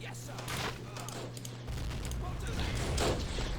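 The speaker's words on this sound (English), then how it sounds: "Try and help a bit with their machine guns." Machine-gun fire in a WW1 desert cavalry battle in Men of War, with dense, continuous crackling bursts under a steady low rumble and ambient battle noise throughout.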